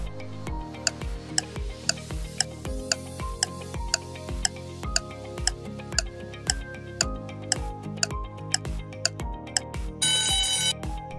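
A quiz countdown timer ticking at an even steady pace over a repeating melodic electronic tune, ending in a brief bright ringing chime, loud and with no talking.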